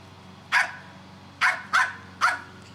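A dog barking at its toy inside a bin lets out four loud, close barks: one, a pause, then three in quick succession, over a quiet steady background.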